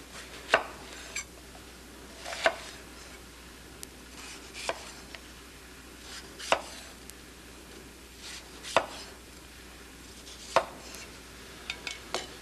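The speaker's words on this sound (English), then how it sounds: "Cut the side off a red pepper." A knife cutting the side off a red pepper on a board, sharp chopping taps spaced a second or two apart, close and fairly faint against a quiet background.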